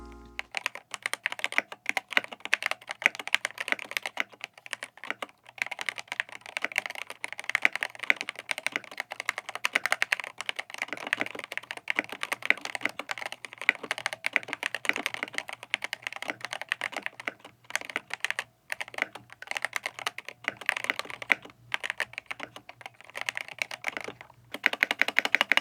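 Continuous rapid typing on a DrunkDeer A75 Hall effect keyboard during work-from-home use, with crisp close key clicks in an irregular fast rhythm and brief pauses.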